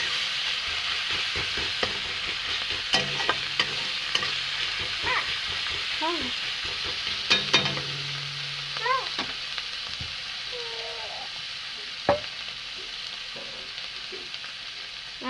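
Ginger, garlic and onion masala paste frying in oil for a chicken and potato curry, a steady near sizzle with occasional stirring knocks, while a voice speaks briefly a couple of times and a faint meow-like cry sounds.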